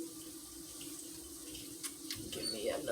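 Tap water runs steadily into a kitchen sink as a knife is rinsed under it, a continuous close hiss with faint clinks near the end.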